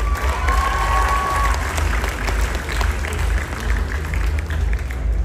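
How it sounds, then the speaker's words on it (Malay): Loud, dense audience applause in a hall at a Johor talent development event, sustained clapping with some crowd cheering mixed in and a low hum underneath, no speech over it. "Dan kita berikan tepukan juga untuk juruacara kita"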